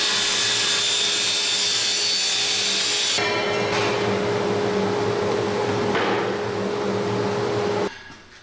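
A length of vinyl fence post pipe is cut to about seven feet for a camper sewer hose holder, with a loud, steady, buzzing cutting noise that shifts in tone partway through and then cuts off abruptly.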